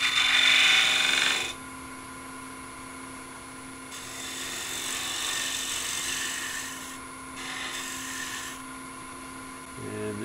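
Wood turning on a lathe shapes a biscuit cutter with a spindle gouge, giving a low motor hum and a steady scraping, rasping cut. The cutting comes in several passes, one of them loud and close.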